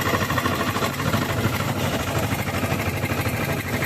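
Old Zetor 2011 tractor, 53 years in service, its diesel engine idling close by in a steady, throbbing rumble with even rhythmic pulsing throughout, no voices.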